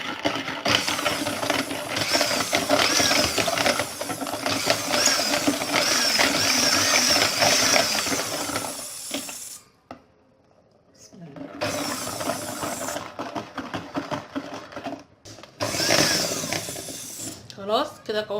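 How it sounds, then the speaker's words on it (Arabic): Electric mixer beating eggless sponge cake batter, a steady whirring drone that runs loud for about nine seconds, stops briefly, then resumes in shorter bursts with gaps between them. "هضرب برضو بالمضرب عادي"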